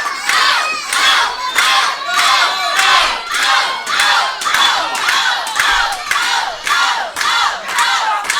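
A large crowd at a wrestling event cheers and chants loudly in a steady rhythmic surge, the roar pulsing in regular waves for several seconds with no talk on top.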